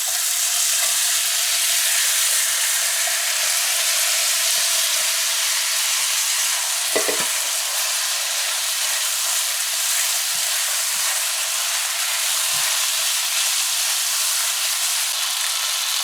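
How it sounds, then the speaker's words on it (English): Washed rice frying with onion and garlic in a pot, a loud steady hiss of sizzling that fills the whole stretch, broken by a single brief thump and a few faint clinks. "And now we're going to add our washed rice."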